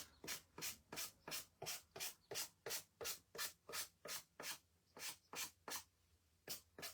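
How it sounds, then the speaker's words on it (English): A small handheld sanding block works the edges of a rub-on transfer on a frame in quick, rhythmic back-and-forth scrapes, about fifteen close gritty strokes with a brief pause before the last few. "get my little sander to clean up the edges"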